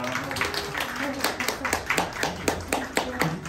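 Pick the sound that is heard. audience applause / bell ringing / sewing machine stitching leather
audience applause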